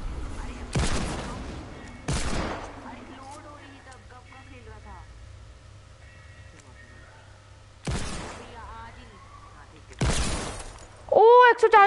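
Sniper gunfire in the video game Fortnite: a few loud, sharp shots spaced seconds apart over a quiet game background hum, with a brief tonal game sound at the very end.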